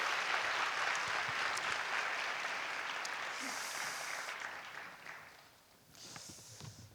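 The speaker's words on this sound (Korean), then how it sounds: "다시 한번 우리 박수하겠습니다." Church audience giving a renewed round of applause after a musical performance, broad clapping that holds steady, then thins and fades toward the end before a brief swell, with no clear speech.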